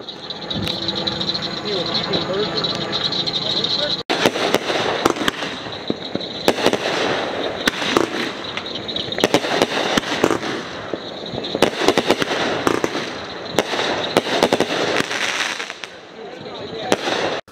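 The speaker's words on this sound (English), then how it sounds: "Fireworks were a huge success." Fourth of July fireworks crack and burst in rapid, irregular volleys, loud and close, with a constant rumbling hiss between the explosions.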